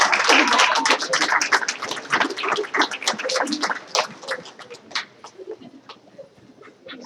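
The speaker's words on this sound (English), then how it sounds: "Give everybody a big round of applause." A crowd at a school board meeting applauds its state champions with dense clapping that thins out over several seconds into scattered claps, heard in an indoor room.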